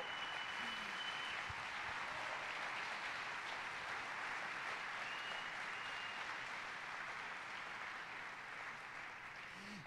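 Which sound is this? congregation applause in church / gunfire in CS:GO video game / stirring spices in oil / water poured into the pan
congregation applause in church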